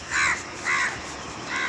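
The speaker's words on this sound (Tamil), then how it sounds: "போகும்போது காக்கா சத்தம் மட்டும்தான் இருக்குது" Crows cawing during an early morning walk: three harsh, separate caws spaced about half a second apart, fairly close and loud against quiet outdoor background, with no talking.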